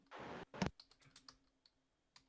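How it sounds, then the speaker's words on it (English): Quick bursts of keystrokes on a computer keyboard, a few clustered clicks followed by scattered single taps and a pause, close and fairly quiet with no voices. "Typing that right now."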